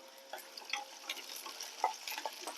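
Onions sautéing in a pan as the base for a dried shrimp roast give a light, steady sizzle with scattered small ticks and stirring scrapes, close and fairly quiet, no voices.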